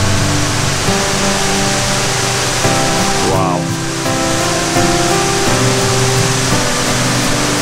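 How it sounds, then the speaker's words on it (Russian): Pozas de Cristal waterfall in Cuba roaring steadily up close, a dense, unbroken rush of falling water, with a brief exclaiming voice and faint background tones over the constant noise. "Вот это водопад."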